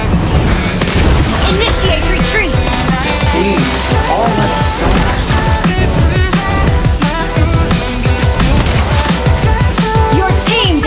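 A turret is destroyed in the mobile video game Mobile Legends: heavy booming impacts and crashes over dense game music and effects, loud and busy throughout, with a game announcer voice.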